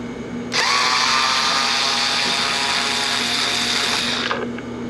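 A power driver spins out a cover bolt on a Campbell-Hausfeld 1-gallon air compressor, a steady high whine running for about four seconds before cutting off, close and alone.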